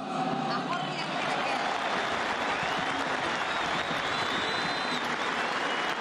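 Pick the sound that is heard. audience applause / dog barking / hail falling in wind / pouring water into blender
audience applause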